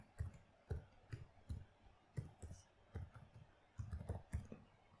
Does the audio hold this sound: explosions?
no